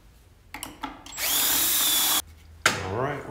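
Corded electric drill boring into wood, a loud steady whine lasting about a second, then a fresh burst of drilling with falling pitch as the bit bogs down, preceded by light handling knocks.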